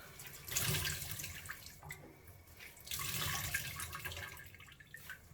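Tap water runs in a sink to rinse freshly dyed yarn, a steady broadband splashing that swells twice, with brief quieter gaps as the flow is moved under it.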